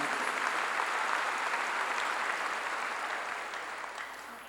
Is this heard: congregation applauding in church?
yes